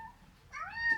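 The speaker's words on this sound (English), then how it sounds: "I already hear someone meowing." A house cat gives a short meow, a quick rising call close by, after a moment of near silence.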